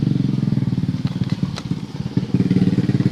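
A Honda Supra X 125 motorcycle with a worn sprocket and sprocket hub idles up close, a steady rapid low putter with pulsing beats and faint mechanical clatter.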